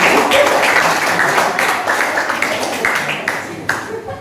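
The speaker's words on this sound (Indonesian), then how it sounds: "Tepuk tangan untuk Pak Dio" Classroom applause for a student called Pak Dio, with a crowd of hands clapping in a steady, fairly loud wash that slowly thins toward the end, a few sharper claps standing out.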